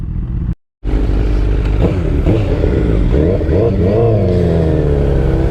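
A 2005 Yamaha R1 liter-bike engine revs loud and close after a brief cutout, rising and falling through several throttle blips with a rough mechanical growl, no talking.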